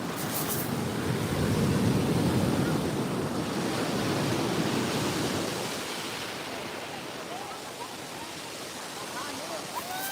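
Ocean surf breaking on the shell-covered shore of Playa Conchal in Costa Rica, a continuous roaring wash that swells loudest early then settles into a softer hiss, with wind buffeting the microphone.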